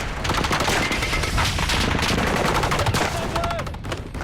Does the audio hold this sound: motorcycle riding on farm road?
no